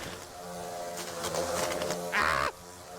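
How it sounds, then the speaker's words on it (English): Wasps buzz around a nest in the video game My Summer Car, a steady insect drone with a loud, close swell of buzzing near the end that cuts off abruptly. "Oh God, I hate wasps."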